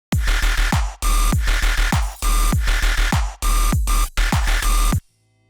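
A heavily distorted FM synth bass in a midtempo electronic drop hammers out loud, dense stabs in rhythmic bursts with brief gaps between phrases, then cuts off abruptly into near silence.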